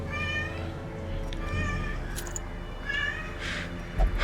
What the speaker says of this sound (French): Les miaulements du chat, ça ajoute à l'ambiance.